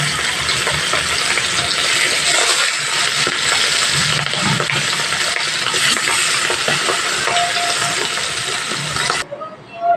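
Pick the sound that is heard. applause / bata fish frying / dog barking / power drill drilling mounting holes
bata fish frying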